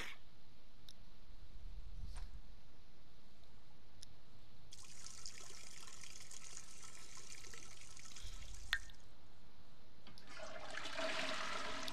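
A toilet flushes in The Sims 4, a rushing watery surge in the middle followed by a second gurgling refill swell near the end, amid faint game ambience and a few soft clicks.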